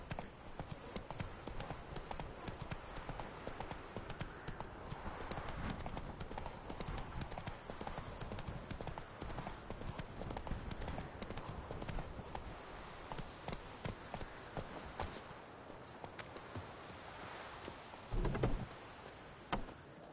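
Roach, the horse in The Witcher 3, gallops with steady rhythmic hoofbeats that run continuously at close range over a dense game soundscape, with a heavier thump near the end.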